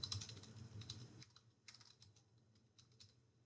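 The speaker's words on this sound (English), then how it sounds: "So I'm just going to start typing." Keys clatter on a computer keyboard in quick, irregular bursts, close and quiet, with short pauses between runs of strokes.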